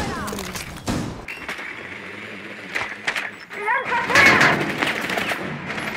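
Bursts of gunfire in Rainbow Six Siege ranked play crack and rattle in quick volleys, with echoing thuds and scattered effects, while a person talks over the action.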